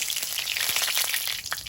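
A bay leaf hits hot oil in a wok with a steady, dense crackling sizzle that holds loud and even throughout, a few sharper pops standing out near the end.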